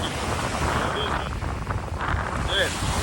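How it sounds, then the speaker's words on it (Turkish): Steady wind buffeting the microphone at the seaside on a rough, wavy, windy day, a constant broadband roar with no clear pauses. "oldukça dalgalı ve rüzgarlı bir gün"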